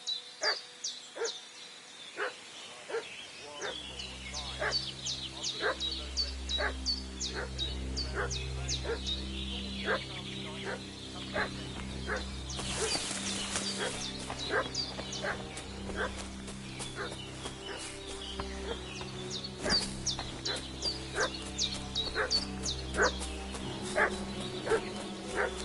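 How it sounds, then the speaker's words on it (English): A dog in a video game barks and fusses repeatedly, sharp yips and barks in a steady irregular rhythm over a low droning ambient hum, fairly close and persistent throughout. "What's that dog making such a fuss about?"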